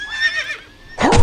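A horse whinnies in the video game Forge of Empires, a loud, wavering neigh lasting about half a second, followed after a short gap by a burst of clip-clop or impact noise.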